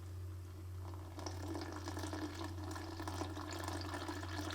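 Water is poured into a bowl of Knorr ginataang gulay recipe mix, a soft, steady trickle and splash that starts gently and grows fuller after the first second, over a constant low background hum.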